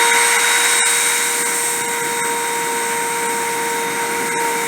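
A friction stir deposition machine runs at higher forging force, producing a loud, steady mechanical whine with sustained tonal hums and occasional faint clicks.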